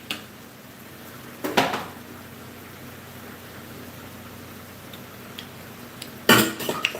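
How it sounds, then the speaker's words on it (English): A fork clatters against dishes in a home kitchen where minced garlic is being cooked. There are two sharp metallic clanks a few seconds apart over a quiet, hissing background. "She threw the fork."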